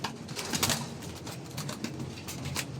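A racing pigeon hen coos softly against a busy loft background, with scattered faint clicks and flutters, and no voices.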